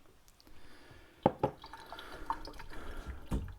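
Pickle brine poured out of an overfilled jar of fermented squash pickles, a few splashy drips and trickles at close range, quiet between them, ending with a small splash.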